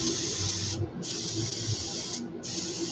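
Airbrush spraying sepia ink while painting a rainbow smelt jerkbait lure, a steady close hiss cut off briefly twice as the trigger releases, with the faulty spray sputtering unevenly.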